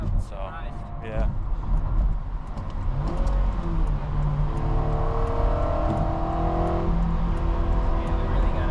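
A 2008 Honda Civic Si with a K20 engine accelerates from inside the car, its engine note rising steadily under road and wind rumble.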